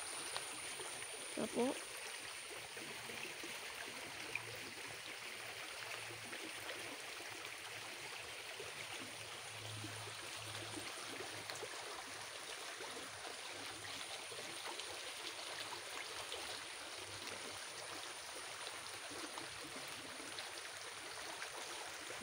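A flowing stream, a steady faint wash of running water that continues throughout, with a brief word spoken near the start.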